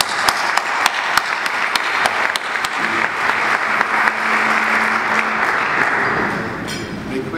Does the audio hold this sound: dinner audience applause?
yes